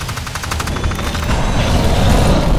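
Big guns firing in Evolve, a loud continuous stream of rapid heavy shots blending into a dense roar that builds toward the end.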